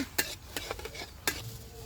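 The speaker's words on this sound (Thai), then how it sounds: "ตั้งกระทะแล้วก็เทน้ำเปล่าลงไป แล้วก็ใส่กระเทียม คนกระเทียมให้หอมก่อนนะ" Quiet scraping and light clinks of a utensil stirring garlic in water in a pan, with no oil, with a soft sizzle underneath.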